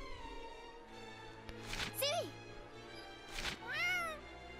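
A cat meowing in the video game Gravity Rush 2, two drawn-out rising-and-falling meows over a soft game backdrop, near and clear, with a sharp click between them.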